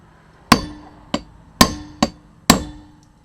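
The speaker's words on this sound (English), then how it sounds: "Hammer it down." A hammer drives a U-joint cap down with a socket on a Jeep TJ Wrangler axle, five sharp metallic strikes in an irregular rhythm, some harder than others, each ringing briefly, close and with no talk.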